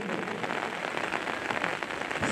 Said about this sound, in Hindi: हालांकि बूंदाबांदी में अब सूरज को चमकना पड़ेगा